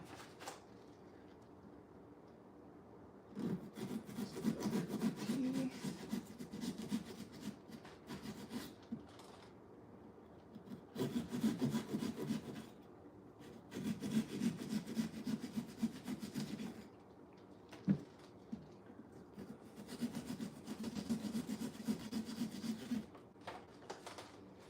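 A pumpkin being carved by hand for Halloween, giving repeated bursts of rasping, sawing scrapes in rhythmic strokes with short pauses between them, close by and with no talking.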